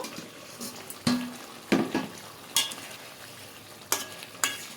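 Hilsa fish pieces in a pan being stirred gently for hilsa biryani, a quiet background sizzle broken by about six distinct scraping strokes of a spatula against the pan, spaced unevenly.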